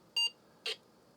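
An Apple II+ clone computer gives two short, bright startup beeps about half a second apart, clear over a faint background hum.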